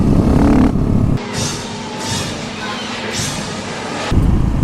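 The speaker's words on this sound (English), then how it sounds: "you're not revving your bike too hard while it is too cold" Cold motorcycle engine revved while under temperature: a loud throaty rev at the start, a drop to a lower, rougher idle with a couple of shallow rises in the middle, then a stronger rev at the end.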